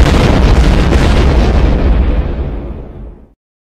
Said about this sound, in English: Watch out. It's gonna explode now.